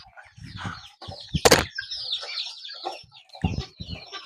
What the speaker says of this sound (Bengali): আমাদের অনেকগুলো মুরগি হাঁস আছে